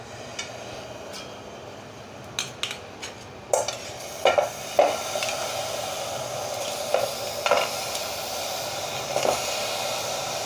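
Jaggery being stirred in a thick pot on a lit stove, heard as a series of scraping, clinking strokes that begin sparse and grow more regular, close by with no talk.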